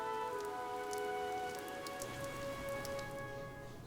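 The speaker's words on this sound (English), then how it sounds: "But it's already raining." Steady rain falls throughout a stormy game scene, a dense even patter with a sustained musical drone underneath and no voices.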